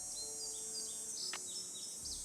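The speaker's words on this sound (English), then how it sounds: "Bird." A bird chirps in the video game Nancy Drew: Ghost Dogs of Moon Lake, a few faint high tweets over a steady background hiss with no talk.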